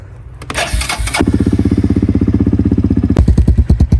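A four-wheeler ATV engine cranks over with the choke on, then catches and settles into a loud, steady, chugging idle with a rapid rhythmic putter, close by and without talk.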